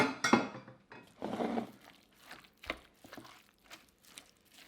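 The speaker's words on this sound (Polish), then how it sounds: "Teraz to wszystko wymieszam." Quinoa tabbouleh is stirred and tossed in a bowl, giving irregular soft scraping, clinking and moist patter at close range with no talking.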